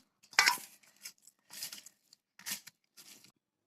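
Boiled potatoes are mashed by hand with onion and oil, several close, wet squishing and crinkling bursts separated by short pauses.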